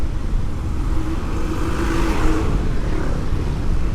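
Road traffic in Uluwatu, Bali, fills the air with a steady, close wash of engines as vehicles pass, and a rising drone swells and fades in the middle.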